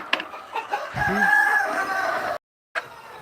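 Chickens cluck while a rooster lets out a single drawn-out crow, moderately close, with a brief gap of silence near the end before faint clucking resumes.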